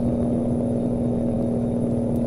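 A truck engine in Euro Truck Simulator 2 drones at a steady cruise of about 137 km/h on a night drive, a constant low hum with a fixed tonal whine and no speech.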